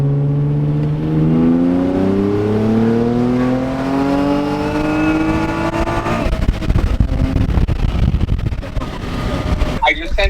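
A Nissan Z pulls hard through third gear, engine pitch climbing steadily and loudly before dropping off into road rumble and rustle, with brief talk near the end.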